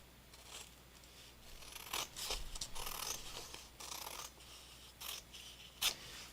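Scissors slice through a sheet of 8.5 by 11 paper to halve it, giving a few distinct crisp snips and longer rasping cuts close up in a quiet room.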